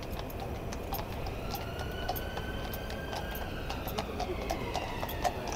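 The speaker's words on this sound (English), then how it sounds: "So she's actually walking with the horses now in front" Horses' hooves clip-clop steadily on a street at a moderate distance, a regular stream of light hoof knocks over a constant background murmur of crowd and traffic.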